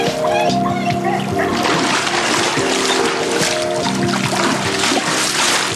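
Water splashes and splatters continuously during water play, loud and close, with a voice and other talking mixed in over the steady sloshing.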